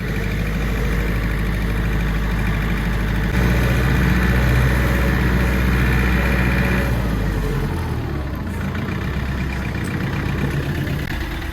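A small Mitsubishi MT 24 tractor engine idles steadily at close range, a constant low rumble that shifts slightly in tone partway through, with no voices.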